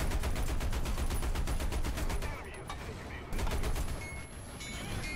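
An enemy tank firing in War Thunder, with rapid, loud bursts of gunfire rattling in quick rhythmic volleys, dipping briefly before another string of shots starts, close and dense throughout.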